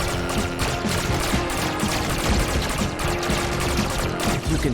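Belt Shower attack from the UFO Robot Grendizer game: a dense, continuous hail of crackling rapid-fire impacts, loud and even from start to finish.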